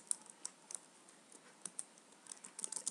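Keys clacking on a computer keyboard while a search is typed, with quick irregular bursts and isolated taps close by, then a faster run of keystrokes near the end; no talking.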